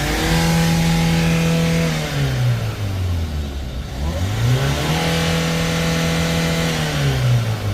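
A petrol or diesel SUV engine, near and loud, revs up hard, drops back, then climbs again in a second long surge. No voices are heard.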